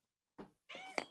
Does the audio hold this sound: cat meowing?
yes